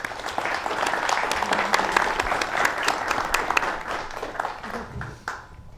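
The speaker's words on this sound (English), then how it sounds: "Please clap for David and the rest of our panelists." Audience applause for panelists at a spring symposium, a lively spread of individual claps from a modest crowd close by, building briefly then tapering off toward the end.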